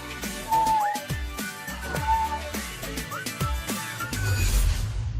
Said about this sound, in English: a whistling walrus who looks like Keith Lemon